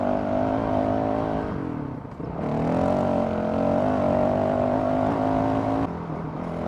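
A Honda CRF 450 RL dirt bike with an aftermarket ECU in race mode revs and winds up, a loud steady engine drone with a brief dip before climbing again, heard up close while riding.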